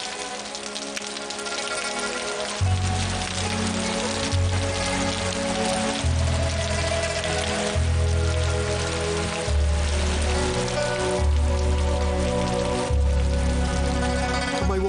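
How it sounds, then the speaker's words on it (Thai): Steady, hissing rain pours throughout, joined by soft music with low chords that change every couple of seconds. "เพราะข้างนอกฝนตกครับ"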